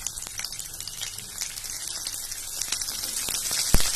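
Onions hit hot oil in a pan while gobi manchurian is being cooked. They set off a faint, steady crackling patter that slowly builds, with a sharp clack near the end.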